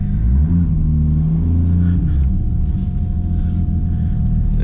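Toyota MKIV Supra engine rumbling loud and close during a burnout, deep steady low roar with pitch rising and falling as the revs change, no voices.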